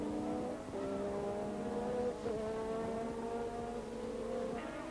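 1984 Formula 1 turbo race cars at the French Grand Prix howl past at high revs, several engine tones rising and falling together, steady and moderately distant, heard alone without talk.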